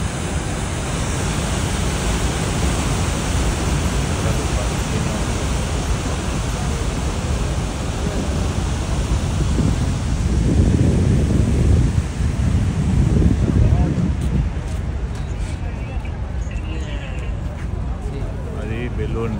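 Niagara Falls on the American side, heard from low down near the base, gives off a loud, continuous rushing roar mixed with wind buffeting the mic, swelling midway, while a voice talks over it.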